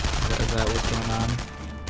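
Gunfire in the World War II shooter Enemy Front as resistance fighters in a house shoot at German soldiers, with dense rapid shots that fade near the end.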